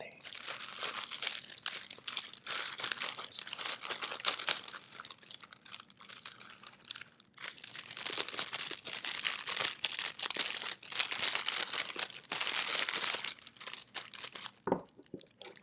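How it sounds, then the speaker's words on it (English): Cellophane packaging wrap is crinkled and crushed up close, a dense, loud, continuous crackling that swells and eases in bursts, with a short quiet gap near the end. "I can't wait to open it and just hope that it's wrapped in this kind of cellophane."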